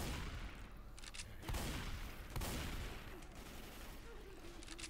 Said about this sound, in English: Okay, let's just keep the shotgun.